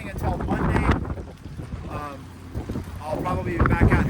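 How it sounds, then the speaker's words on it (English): Gusty wind roars and buffets the microphone in heavy, uneven rushes, with a voice speaking briefly under the noise. "It is windy."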